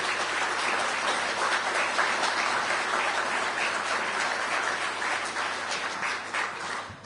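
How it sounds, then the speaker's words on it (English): Sustained audience applause at the opening session of a conference, dense steady clapping from a large crowd that holds level for several seconds and eases slightly at the end, with no talking over it. "So please give them a round of applause first to start off."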